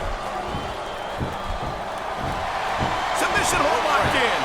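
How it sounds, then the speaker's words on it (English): A large arena crowd roars and chants through a Big Show versus Great Khali match in the WWE SmackDown vs Raw 2007 video game, a steady swelling wall of noise with a few sharp slams beneath it. "Wow, listen to that chant, Taz."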